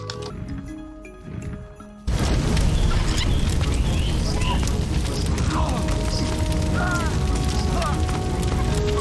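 Fire god power from Age of Mythology crashing down on enemy units, a sudden loud roaring, crackling burst after a quieter opening, then a dense sustained rumble with scattered chirps and clatter from battle.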